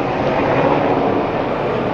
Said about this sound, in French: il y a genre 3-4 hélicoptères qui sont passés au-dessus de ma tête là